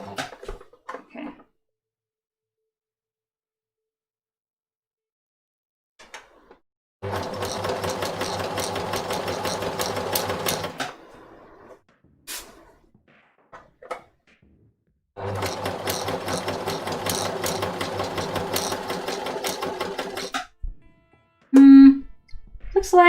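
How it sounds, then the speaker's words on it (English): A sewing machine stitches along the edge of fabric in two sustained, loud bursts of rapid mechanical chatter, with quiet gaps, brief handling clicks and short pauses in between. "rather than stitching in the ditch, I'm stitching exactly on the edge, which is arguably harder to do"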